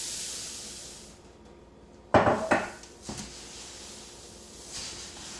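Rice Krispies cereal is stirred into a dissolved mixture in a cooking pot, producing a couple of loud scraping, clattering hits near the middle followed by softer spoon knocks against the pot.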